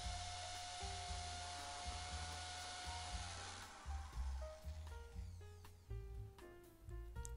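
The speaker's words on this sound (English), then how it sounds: "Here you can see I'm drilling through the mortar of the bricks." A Ferrex 610W impact drill bores through the mortar between bricks on its slowest setting, a steady whining grind that gives way to choppier, uneven bursts as the bit works into the joint.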